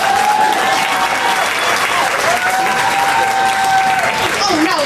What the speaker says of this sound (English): Can you clap, or are you too tired?